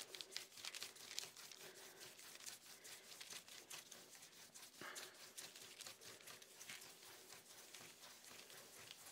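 Deli paper crinkles and rustles as it is pressed and lifted off a gel printing plate during cleanup, a close, continuous stream of crisp crackling and crumpling with no talking.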